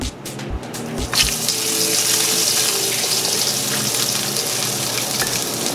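New York strip steak dropped into a hot oiled sauté pan, a loud close sizzle that bursts in and holds as a steady broad hiss, with no voices.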